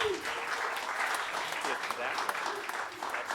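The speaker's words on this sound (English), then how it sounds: "Uproarious applause for Ossie Hamrick" An audience applauds as a speaker is introduced at a marketing talk, a steady, even wash of clapping at moderate distance and fairly soft, with a voice talking faintly over it.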